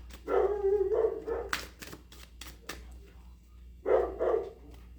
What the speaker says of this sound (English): I'm going to wait for the dog to stop barking and then I will continue.